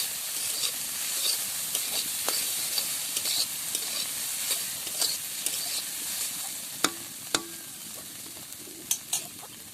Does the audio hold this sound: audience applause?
no